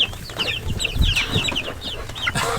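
Chickens on a homestead cluck and chatter close by in a continuous run of short, overlapping calls.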